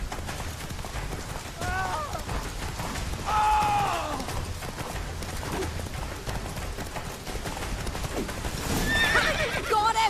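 Horse galloping and neighing in The Witcher 3, rapid hoofbeat clip-clops under game sounds with a couple of clear whinnies, and voices shouting over the action.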